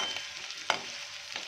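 Chopped onion sautés in a pan, a steady soft sizzle with broadband hiss throughout and one sharp clink of a spoon against the pan partway through, quiet and close.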